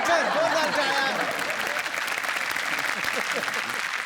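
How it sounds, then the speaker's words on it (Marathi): A studio audience at a Marathi comedy show bursts into loud, sustained applause to welcome an actor, with clapping steady throughout and a few faint voices mixed in. "जोरदार टाळ्या."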